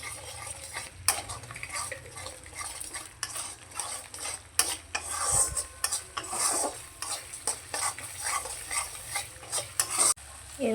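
A spoon repeatedly scraping and stirring a spice paste of turmeric and chili powder in oil in a pan, with a light sizzle beneath and irregular clinks of metal on the pan, no talk.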